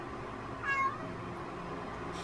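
A cat lets out one short meow near the start, then only a quiet room hum follows.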